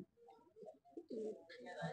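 Owl-type pigeons at a market stall give soft, low cooing in short bursts, mixed with nearby chatter and general crowd noise.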